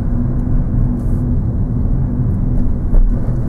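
A car rolls along slowly, under 10 mph, on a driving lesson while practising emerging at junctions; a steady low engine and road rumble continues throughout with no talking.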